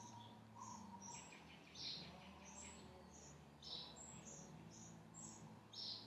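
Birds chirping outdoors, repeated short high tweets at a moderate distance coming every second or so over a faint steady background hum, with no talking.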